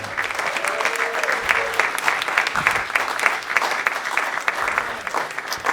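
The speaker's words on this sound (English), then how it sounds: "please give him a round of applause" A crowd at a Rev. Martin Luther King tribute claps steadily, sustained applause of many hands, with a brief voice audible early on.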